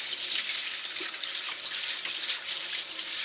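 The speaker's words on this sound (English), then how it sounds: "we've got a rice sieve, very fine, because we have to rinse the barley" Running water pours steadily over barley in a very fine rice sieve, a close, continuous rushing splash with slight fluctuations, heard alone without talk.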